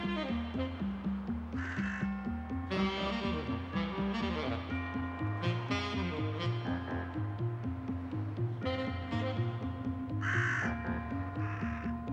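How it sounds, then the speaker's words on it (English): A crow caws repeatedly in a city setting, harsh calls spaced across the stretch over a steady, dense background of urban sound and other birds. "the crow belongs to the same family as the jackdaw and the rook"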